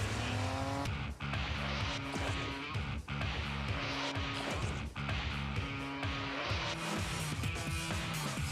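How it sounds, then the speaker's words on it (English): A Lexus supercar engine fires up and races, a loud, near, high-revving roar that climbs through the gears in repeated rising sweeps with brief dips at each shift. "Start your engine."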